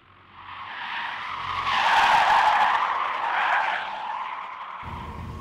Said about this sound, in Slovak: A už nám klopú gumy trošku, strácajú bezén.